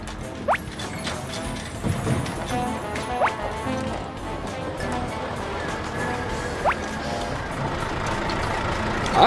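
A cartoon dump truck reverses with a crane nearby, giving off several sharp, spaced electronic beeps over a rumbling vehicle bed, with scattered clanks and a voice speaking in the background.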